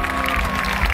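Applause from a live concert crowd for the drummer at a show, a dense wash of clapping and crowd noise that continues through the brief moment alongside a sustained tonal band.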